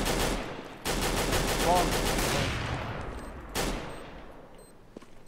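Rapid gunfire in a Counter-Strike match on the Inferno map, bursts of shots hitting a wall, loud and dense with a short lull between volleys, under a player's voice.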